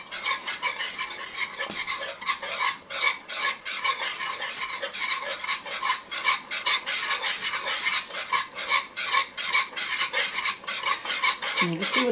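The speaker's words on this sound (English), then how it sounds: "I'm going to lower my heat while I get this stirred in." Cornmeal mush being stirred in a cast iron pan over medium-low heat, a steady scraping and sloshing with repeated utensil strokes against the iron, close and continuous, with a soft sizzle underneath and no talking.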